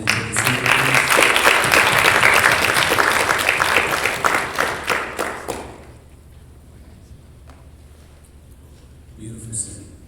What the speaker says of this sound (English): Can we get another round of applause for the ladies of the speaker, please?